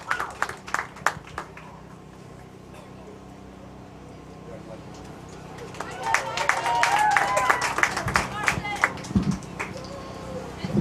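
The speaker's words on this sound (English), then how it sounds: "Let's give one more round of applause for our steer exhibitors today." A crowd at a 4-H cattle show claps for the steer exhibitors. Scattered claps and talking come first, then the applause swells into a sustained round in the second half, with a voice speaking over it.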